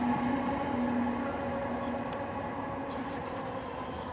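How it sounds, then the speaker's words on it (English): A train rolls by outdoors, a continuous rumbling drone with a faint high squeal, steady and moderately distant, no voices. "We have a train coming by,"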